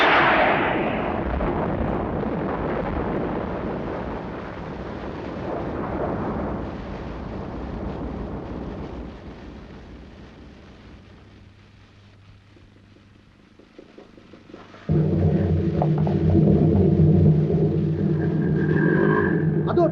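Planted explosives detonating in a Tamil film action scene, a loud sustained roaring blast rumble that slowly fades into a quiet lull, then a sudden heavy burst of rumbling noise erupts again.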